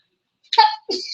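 A single short sneeze bursts out close by after a moment of silence, followed by a brief breathy second sound.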